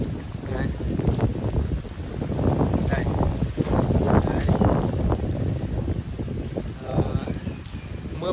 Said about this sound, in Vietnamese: gió cũng nhẹ nhẹ thôi, không to lắm đấy. Chỉ có mưa thôi đấy.